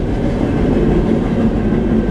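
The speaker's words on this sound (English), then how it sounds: "This is probably the kind of train that Jessica got." A train rolls past in a loud, continuous rumble of wheels and carriages, with a dense low roar and faint rhythmic clatter that holds steady throughout and no voices.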